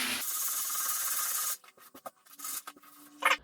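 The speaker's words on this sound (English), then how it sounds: "you want to sand it until you see the paint coming back through" Sandpaper scrubbed over a painted surface, a steady loud rasp for about a second and a half, then a few short separate strokes and scrapes.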